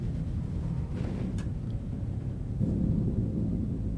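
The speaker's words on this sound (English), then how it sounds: "So thunder in space." A thunder sound effect set in space rolls as a deep, continuous rumble with a couple of faint higher crackles, swelling slightly toward the end, with no voices.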